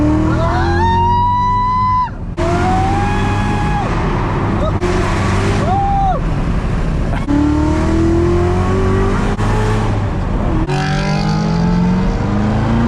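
A Chevrolet Corvette C7 Z06 with a seven-speed manual drives at night, its engine loud and close, repeatedly revving up through the gears with brief drops at each shift.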